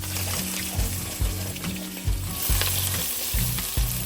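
Cumin seeds and onions hit hot oil in a pan, producing a loud, continuous sizzle with repeated low clunks and scraping from stirring, close up and without any talk.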